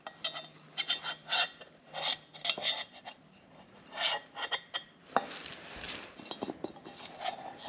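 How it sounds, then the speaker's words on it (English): Metal scraper rasping old gasket material off the housing of a 1997 Jeep TJ Dana 30 front differential, short repeated scraping strokes with faint clinks, close and quiet. "get your scraper. Just try and get the big pieces off"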